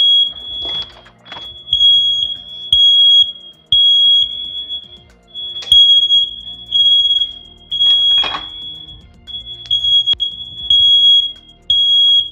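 A smoke alarm set off by heat from a kitchen oven, sounding repeated high-pitched beeps in short clustered bursts, loud and close, with kitchen clatter and handling noises between them and no one speaking.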